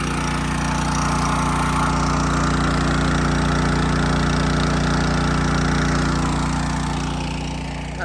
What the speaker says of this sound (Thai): เดี๋ยวเรามาเบิ้งเครื่องปั่นไฟโปโลเนาะ